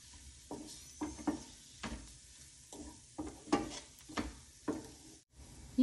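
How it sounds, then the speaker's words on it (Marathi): Garlic mushrooms are stirred in a hot pan, a spoon scraping in regular strokes with soft clinks over a steady sizzle of frying, close and moderately quiet. "मस्तपैकी मिक्स करून घेऊया"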